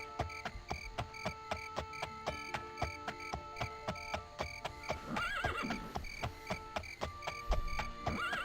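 A horse in an Elder Scrolls video game whinnies amid a steady, rhythmic clip-clop of hooves at a gallop, with a game music bed underneath.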